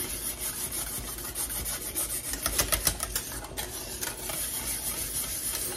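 A spoon scrapes and stirs thickening homemade banana pudding in a pot, a steady rubbing swish with a few louder scrapes midway, close and continuous with no talking.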